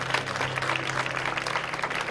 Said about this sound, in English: Let's go ahead and give the Lord a hand clap.